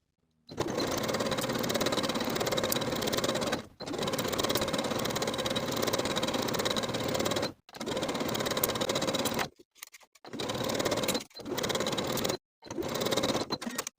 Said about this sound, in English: we're going to sew that neckband in place with a 3/8 inch seam allowance